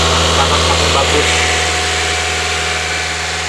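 A Mitsubishi Xpander engine idles steadily during tuning, with a catalytic exhaust giving a loud, even, close-up hum and low rumble that holds constant throughout.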